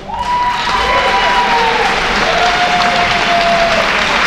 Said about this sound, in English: Akuma stating that he and Mikaze tore the roof off this place tonight, and the crowd obviously agrees.